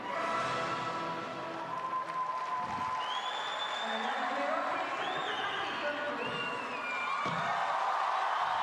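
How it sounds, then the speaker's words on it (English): Arena crowd at the 2015 European Games artistic gymnastics applauding and cheering a performance, a steady sustained roar of clapping with scattered whoops throughout. "Crowd appreciates her"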